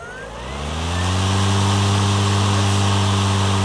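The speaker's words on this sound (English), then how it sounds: "I did mention how quiet this unit is, so I'll go ahead and start up the blade." An electric lawn mower's blade spins up and settles into a steady, even hum with a smooth tonal whine, close by and with no talk.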